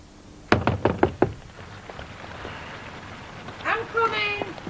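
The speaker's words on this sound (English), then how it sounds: "she's knocking at the door." Five quick, firm knocks rap on a door in a steady run, close and sharp, followed by a pause and then a voice speaking.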